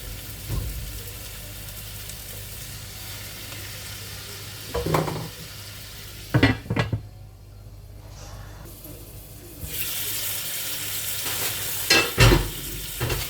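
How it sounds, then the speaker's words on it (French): Meat sizzles as it grills in a pan for a quick tagine, a steady close frying hiss punctuated by several louder bursts of sizzling and stirring. "je jette la viande à griller. Elle grille un peu"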